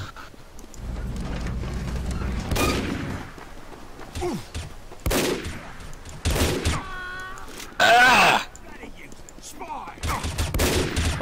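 Gunfire in Team Fortress 2 on the pl_thundermountain map, heard as repeated sharp shot bursts and blasts scattered through the clip, with a player's voice speaking between them.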